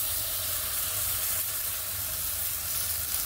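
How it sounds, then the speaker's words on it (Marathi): A ground spice paste fries in hot oil for a Marathi vada dish, with a steady, dense sizzle that continues without a break and has no talk over it. "तेल गरम झालं की लगेचच आपल्याला त्याच्यामध्ये वाटण घालायचंय"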